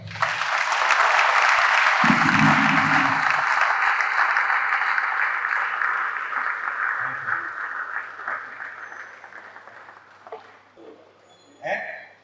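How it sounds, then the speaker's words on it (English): Sustained applause from a public lecture audience, loud at first and gradually thinning out, with a few brief voices and a final cluster of claps near the end. "Before you sit down, another round of applause."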